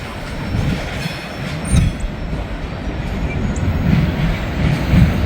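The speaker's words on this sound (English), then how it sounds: "There goes another Norfolk Southern train." A Norfolk Southern train rolls steadily past with a continuous low rumble of rail cars, wheels clattering on the track at close range, with no voices.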